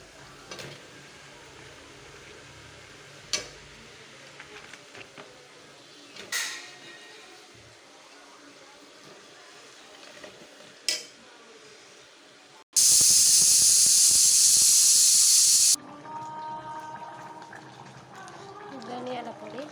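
Goat head meat hits a hot pan in a home kitchen with a sudden loud sizzle that lasts a few seconds, then settles into a quieter frying crackle, with talk and clatter before it.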